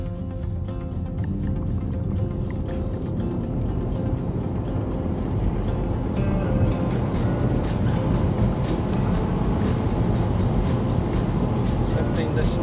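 A 2024 MINI Countryman car accelerating from a slower speed, steady engine and road noise building at close range throughout, with no talk over it.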